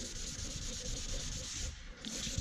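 Steady abrasive rubbing of sandpaper over a car's clear coat, dry sanding with fairly new, coarse paper; continuous close scratchy strokes with a brief lull near the end, no talking.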